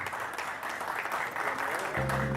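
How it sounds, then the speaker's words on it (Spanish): Applause at a horse auction rings out steadily for the whole stretch, a dense crowd clapping, with a low hum or voice joining near the end. "Señor Fernández, fuerte el aplauso."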